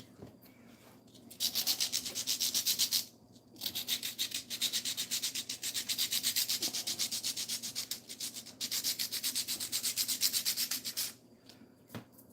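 Sandpaper rubs against a scale model building in close, rhythmic bursts of scratchy strokes separated by brief pauses, with no speech.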